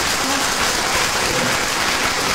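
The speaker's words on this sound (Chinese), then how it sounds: "我们大家一起掌声感谢老师" A lecture audience at a Beijing Normal University cultural forum in 2012 gives the lecturer dense, steady applause, a loud, even wash of clapping with no talking.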